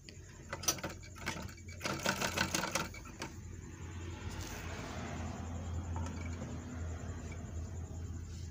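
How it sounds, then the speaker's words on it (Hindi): An overlock sewing machine whose needle was just lowered runs a test stitch, giving a loud rapid mechanical chatter for about two seconds, then a steady low hum with fainter clicks that fades off. "अभी हम इसको सिलाई मार के देखते हैं।"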